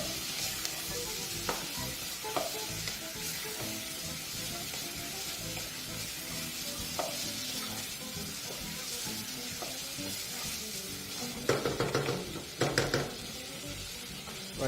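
Steady frying sizzle from carrot pieces and onions in a pan for tomato soup, with intermittent scraping stir strokes and a few louder clatters near the end. No voices.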